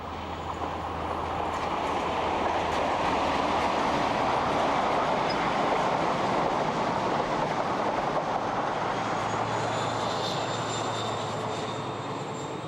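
A British diesel passenger train runs along the seawall at Dawlish, its engine a steady, loud drone with continuous rolling rumble throughout, and a faint high whine creeping in toward the end.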